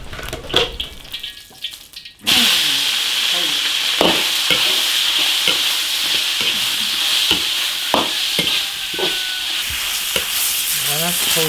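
Pork belly hitting hot oil in an iron wok, a sudden loud sizzle that holds steady with repeated scraping and stirring strokes of a spatula, close up after a few seconds of quieter clatter.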